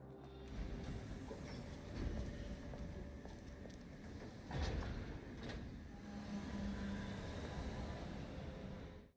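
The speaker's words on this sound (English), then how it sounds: "let's go ahead and take the train here" A train ride in the video game AI Limit gives a low, steady rumble of rolling rail cars. A brief clunk is heard partway through, and a faint tone hums along under the noise.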